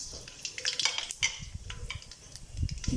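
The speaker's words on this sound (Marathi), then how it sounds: "मोहरी टाकते मग" Mustard seeds tossed into a hot kadhai while making murmura chivda, with scattered light clinks and crackles of metal and seeds, faint and irregular, no voices.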